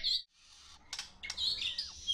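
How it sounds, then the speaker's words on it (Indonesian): An albino long-tailed shrike (cendet) chirps close by in a quick series of bright, high calls, with one descending whistled note near the end and no talking. "Burung ini harganya mahal karena memiliki suara kicau yang khas dan berbeda."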